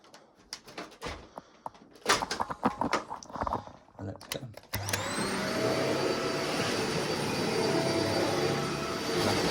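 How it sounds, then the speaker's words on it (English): A Dyson vacuum cleaner starts up indoors and runs with a steady, loud whine and airy roar, preceded by a few seconds of clattering and handling noises. "Always good to give it a good round and vacuum."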